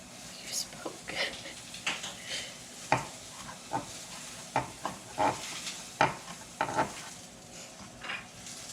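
Sausage meat, removed from its casing, being stirred and broken up in an iron skillet, with irregular scraping clacks of a utensil against the pan over a low sizzle, close by and fairly quiet.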